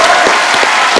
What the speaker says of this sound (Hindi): मतलब जोरदार तालियां बनती है।